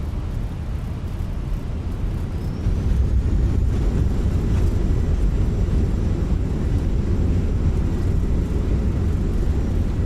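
Thrust reversers roar on an Airbus A319 landing in Microsoft Flight Simulator, a deep, dense rumble that swells and holds steady with a faint high whine above it.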